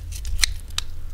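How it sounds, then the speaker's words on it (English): Kitchen shears snip meat and fat away from a chicken wing bone, giving two sharp close metallic clicks over a low background hum, with no talking. "you're gonna take your scissors and just loosen up the meat and fat"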